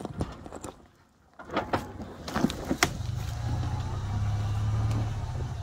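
A Toyota Land Cruiser 80 Series engine with a carburetor cranks and catches, running unevenly in a steady low idle rumble after a few sharp clatters, close by with no speech.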